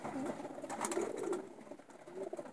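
Racing pigeons coo softly in a loft, a few low throaty calls rising and falling over a quiet background, fairly close but faint.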